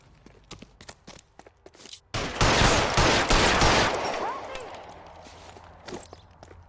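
A burst of gunfire erupts during a police chase in L.A. Noire, loud, dense shots crowding a few seconds after quieter footsteps, then fading into ambient game noise.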